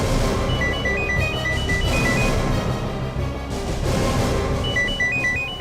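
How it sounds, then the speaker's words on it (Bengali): An electronic phone ringtone chirps in short repeated bursts, pausing midway and then resuming, heard over a dense, busy background. "ফোনের একটা রিং শুনছি কিন্তু ফোনটা দেখতে পাচ্ছি না"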